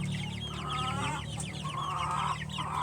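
Chickens on a breeding farm in Basilan, several birds clucking and calling close by in quick overlapping bursts over a steady low background hum.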